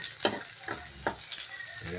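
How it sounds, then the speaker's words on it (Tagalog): Squid adobo with onions frying in a pan, a steady close sizzle with three or four rhythmic scraping stirs of a utensil through the food. "Ang aking asawa ay nagluluto ng Sibuyas. pusit, adobong pusit, requested ko."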